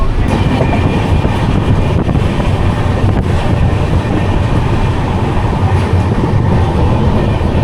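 An empty passenger train rolls along its rails with a steady, loud rumble and clatter mixed with wind buffeting, continuous throughout with no voices.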